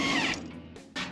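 A ratchet works loose the rear leaf spring hanger bolts on a 1976 Chevy Squarebody truck. A quick, faint burst of clicking fades, and a short second burst follows close by.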